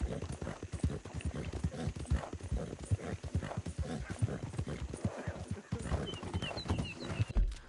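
Horse hooves in Red Dead Redemption 2 clip-clop at a steady walking rhythm, close and clear, with a faint dog bark and a voice talking over the hoofbeats.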